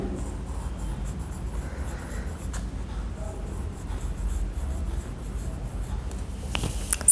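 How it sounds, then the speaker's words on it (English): Pencil or pen scratching steadily across paper while writing body-part names by hand, close and continuous over a constant low background hum, no talking. "Now write the names of the body parts in the given box"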